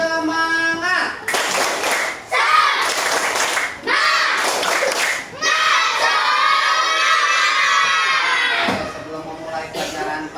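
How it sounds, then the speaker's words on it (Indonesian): An Indonesian school class performs a rhythmic clapping chant with the teacher, loud children's voices shouting in unison between bursts of patterned clapping, ending in a sustained cheer before fading. "Coba kita tepuk semangat."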